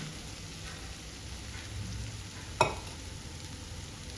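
Cooked basmati rice tipped into a pan of tomato masala, a low steady sizzle with one sharp clattering knock partway through.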